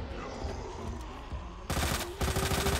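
Gunfire in Resident Evil 2: Ghost Survivors, a quiet stretch followed by loud, close rapid bursts of shots over the final second, with a brief pause between the two volleys.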